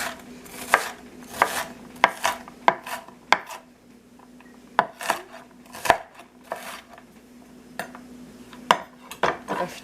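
A knife rough-chopping onion on a cutting board, giving sharp, irregular chops in quick clusters with short pauses between, close and clear without any speech.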